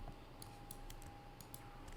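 Faint, quick clicks of computer keyboard bracket keys pressed repeatedly while editing in Photoshop, scattered taps in an irregular rhythm over a quiet steady hum.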